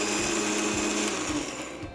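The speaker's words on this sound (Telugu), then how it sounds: "మిక్సీ జార్లో బరకగా పొడి చేసేసుకొని" A kitchen mixer grinder jar whirs loudly, coarsely grinding spices into powder, a dense steady motor whine with slight rhythmic pulsing that tapers toward the end.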